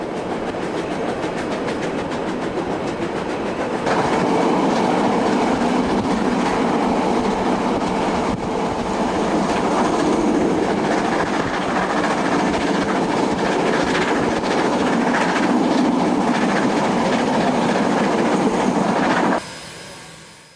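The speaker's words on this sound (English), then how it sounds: "The gradient steepens and the engine begins to bark as it utilizes all its power on the final leg up to Otira." A steam locomotive hauls a train up a steep gradient toward Otira, working hard with a loud, sustained rhythmic roar and clattering wheels that fade out at the end.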